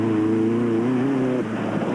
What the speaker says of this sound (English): Rodney and Martin Kunigkramer had a steady run in the beach buggy